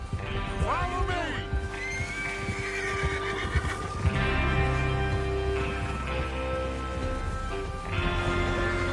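Horses in a western video game whinny repeatedly over clip-clopping hooves and galloping movement, close and loud, with a music score and some speech layered beneath.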